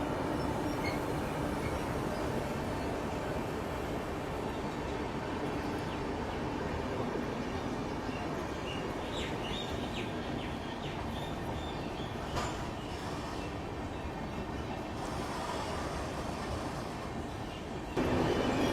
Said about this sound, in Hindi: चेन्नई मेल का डिपार्चर